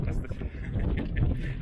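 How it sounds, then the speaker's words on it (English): Heavy wind on a mountain walk in the Mourne Mountains buffets the microphone in a constant low rumble, loud and close, with muffled sounds underneath. "It's a little bit windy up here now, so I might have to use the other mic."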